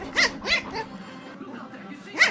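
A small puppy tussling with an ice cube gives short high whimpers and yips, three or four sharp bursts with soft whining between, close and clear.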